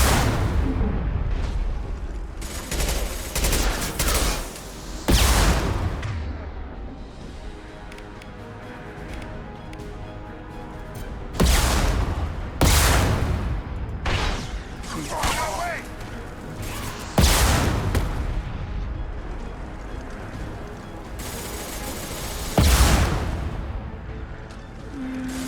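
A heavy weapon firing in Mass Effect 2, booming in repeated loud blasts spaced every few seconds, each with a rumbling tail, over continuous game combat sound.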